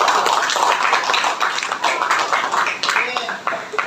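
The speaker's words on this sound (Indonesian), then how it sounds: "beri tepuk tangan untuk kelompok 1" Applause for a student group in a classroom, a dense patter of clapping hands under a speaking voice, steady for a few seconds then thinning out.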